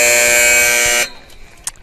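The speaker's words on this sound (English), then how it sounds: "And with that final buzzer," A loud, steady electronic buzzer sounds the end of a women's college soccer match, holding for about one second before cutting off into quieter crowd and room noise.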